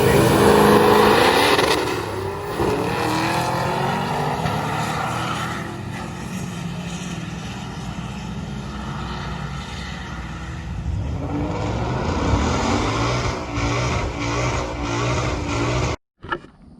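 A nitrous-fed 6.0 Powerstroke diesel truck races down a drag strip. A loud engine roar fills the clip, dips and builds again, then cuts off abruptly near the end.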